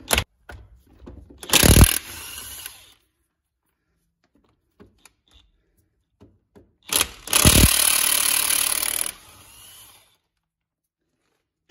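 A power tool runs in two loud whirring bursts, first short and then a few seconds long, while undoing suspension bolts on a Mercedes Sprinter van, with faint clinks and handling noises between them.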